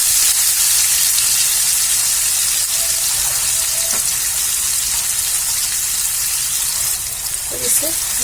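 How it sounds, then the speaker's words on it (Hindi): Paneer frying in hot oil with turmeric in a home kitchen, a steady close sizzle and crackle throughout, with someone speaking over it. "थोड़ा इसमें हम हल्दी डालेंगे तेल में और इसे मिला लेंगे और इसे फ्राई कर लेते हैं"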